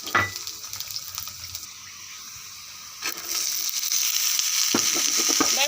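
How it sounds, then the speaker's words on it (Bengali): Potatoes sizzle in hot oil in a wok-style pan for samosa filling while a utensil stirs them with scraping clinks, the frying growing louder and steadier in the second half. "আলুগুলো লাল লাল করে ভেজে নিব"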